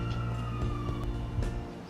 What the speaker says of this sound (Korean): 경찰이 경찰차 소리가 들리고